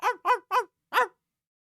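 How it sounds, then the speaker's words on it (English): A dog gives four sharp, high, chihuahua-like barks, three in quick succession and then one after a short pause, loud and close with nothing else heard. "Sometimes he sounds like a freaking chihuahua, which is hilarious."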